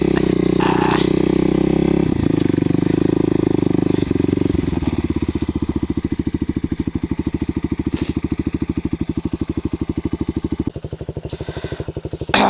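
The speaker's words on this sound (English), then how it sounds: "So yeah, bike's running great." A Kawasaki KLX250SF dual-sport motorcycle engine runs loud and close on a summer roadside, first at a steady higher rev, then dropping into an even, rapid idle thump.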